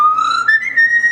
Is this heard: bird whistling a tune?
yes